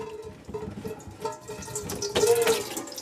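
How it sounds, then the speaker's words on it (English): Water runs and splashes out of a loosened plastic sink P-trap under a sink, a steady close trickle that grows louder and fuller toward the end, with no talking. "this is where your water starts to come out"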